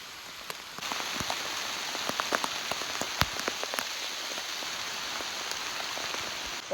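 Steady rain patters on surfaces outdoors on a walk to a farm field during a mushroom-gathering trip in rural Thailand, a continuous hiss dotted with sharp individual drop hits, with no speech.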